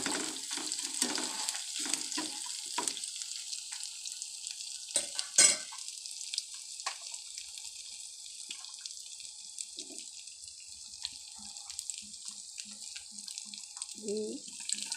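Chopped onion frying in oil with garlic, a faint hissing sizzle with scattered stirring scrapes early on, then quieter with occasional small knocks.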